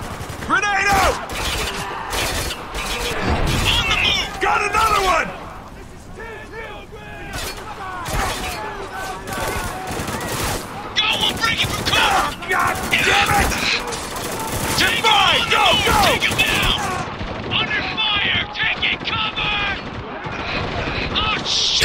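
Dense gunfire and explosions from the video game Spec Ops: The Line, with rapid automatic bursts, sharp cracks and shattering impacts running almost continuously and loudly throughout.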